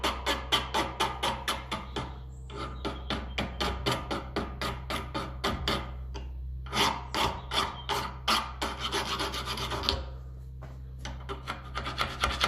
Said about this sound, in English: with my square file. Just take the mushroom off it